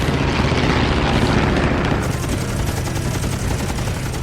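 Continuous heavy machine-gun fire in an aerial dogfight between Flying Tigers fighters and a Japanese Oscar, loud and dense rapid rattling over a roaring aircraft engine, steady throughout without any voices.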